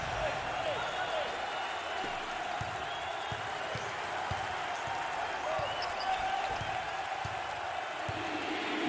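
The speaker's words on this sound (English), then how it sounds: "Look at the student section, Dick, cheering on their classmates, their peers." A college basketball student section cheers at Tulsa versus Houston, a sustained, fairly distant crowd roar with scattered thumps like ball bounces underneath, commentators talking over it.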